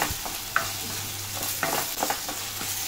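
Tomato masala sizzles in a pan while a spoon stirs and mashes it, giving a steady frying hiss broken by intermittent scraping and knocking strokes, with no voices.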